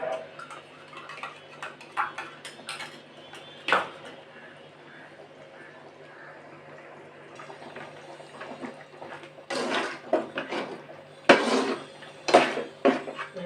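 A spoon stirs tomato rice packed with cashews and chana dal in a cooking pot, giving soft scraping and clinking against the metal that sharpen into louder knocks toward the end.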